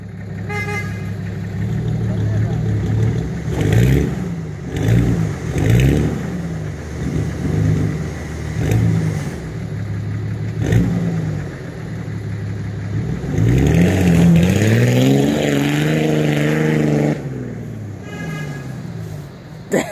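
A Kia Sorento speeds across sand towing a Nissan 4x4, its engine revving and surging loudly with rising and falling pitch, broken by short horn-like blasts, with a harsh sustained roar near the end.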